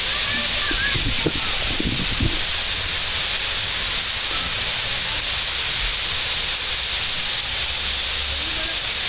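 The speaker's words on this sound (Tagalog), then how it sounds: "Lagi sa taas, maagis yung tubig dito yan." Water gushes and hisses steadily from a large fountain at Dubai Expo 2020, a loud continuous rush with a few brief knocks near the start.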